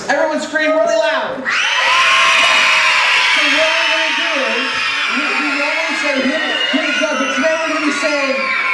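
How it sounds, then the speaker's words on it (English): Crowd of children at a Vacation Bible School screaming loudly together, a sustained roar of high-pitched shouts following a brief adult voice, then continuing with mixed cheering. "Everyone scream really loud."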